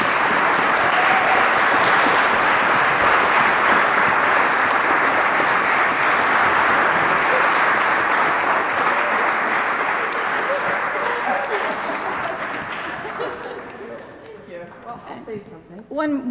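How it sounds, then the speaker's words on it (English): An audience at a choir concert applauds, a loud, dense roar of clapping that holds steady for several seconds before gradually thinning out and fading to scattered claps. "So I hope we can give her a big round of applause as well."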